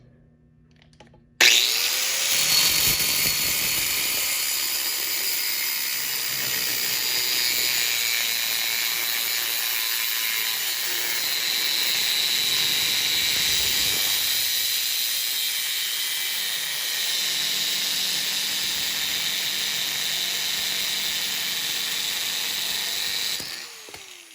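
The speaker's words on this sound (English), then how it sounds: "There we go, cut through it. Took a little long, but I'd imagine that's because of these cutoff wheels." A HYCHIKA 4 1/2 inch angle grinder fitted with a cutoff wheel cuts through material with a loud, steady high-pitched whine and hiss. It starts abruptly after a moment of quiet and runs continuously for about twenty seconds before spinning down.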